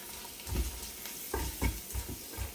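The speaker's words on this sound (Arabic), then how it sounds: "صافي غادي نحركوا هاد المكونات مزيان مع بعض حتى هما حتى يتخلطوا" Saffron, onion and spices stirred together in a pot, a spoon scraping in several quick rhythmic strokes over a light sizzle, close and fairly loud.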